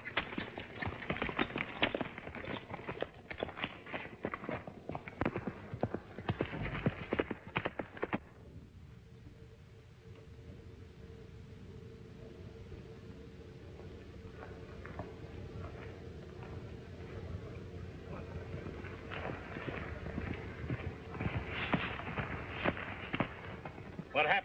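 Horses galloping in an old 1934 black-and-white serial, quick rough hoofbeats in bursts that fade to a quieter stretch before returning, with a dull background hiss.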